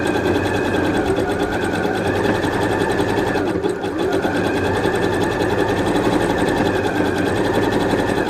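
Steady, close and continuous, a sewing machine whirs as it stitches fabric joined to quilters wadding, with a brief dip midway and no talking.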